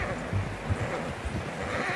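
A horse in Red Dead Redemption 2 whinnies and snorts amid clip-clopping hooves, with some talk and ambient game sound mixed in.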